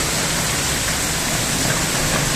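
A continuous downpour of rain makes a loud, even wash of hiss, steady and unbroken for the whole stretch, with no talking.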